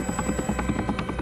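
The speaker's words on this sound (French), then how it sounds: "Sur le tarmac, le Caïman, puis le Tigre, décolle." A Tiger military helicopter lifting off from a tarmac, its rotor thumping in a fast steady rhythm under a loud turbine whine, close and continuous.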